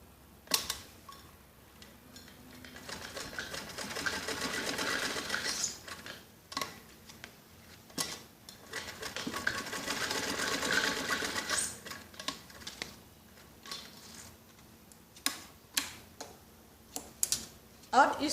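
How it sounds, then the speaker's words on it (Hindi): A sewing machine stitches elastic into a child's skirt waistband in short, stop-start bursts of close mechanical whirring, separated by clicks and handling noises, with a voice talking at times. "इसमें भी हम ऐसे ही सिलाई लगा लेते हैं, ताकि लास्टिक जब हम सिलाई लगाए तो छोटी बड़ी नहीं हो और खिसके भी नहीं"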